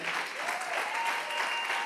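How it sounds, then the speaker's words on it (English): A church audience stands and claps after a financial freedom talk, brief dense applause from many hands with faint voices and a tonal note mixed into the wash. "Let's stand on our feet and clap our hands"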